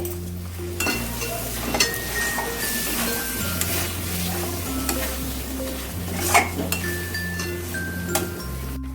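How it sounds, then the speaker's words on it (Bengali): Pointed gourd being stirred and fried with spices in a pan, with steady sizzling and repeated scraping stir strokes, occasional utensil clinks, close and alone with no talk. "পটলগুলো দিয়েও প্রায় দু মিনিটের মতন একটু ভালো করে মশলার সাথে মিশিয়ে নেব"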